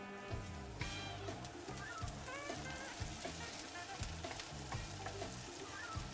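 Onions and pumpkin fry in a pan, a steady crackling sizzle with occasional louder pops and stirring scrapes, close and continuous without talk.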